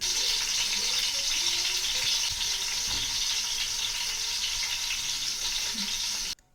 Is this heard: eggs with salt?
yes